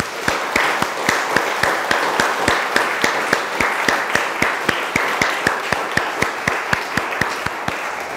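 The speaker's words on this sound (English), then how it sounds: "let's give our young people a big round of applause." A church congregation at a Sunday morning Mass claps for its young people, the claps landing in a steady, evenly spaced rhythm that carries on for the whole stretch with no voices over it.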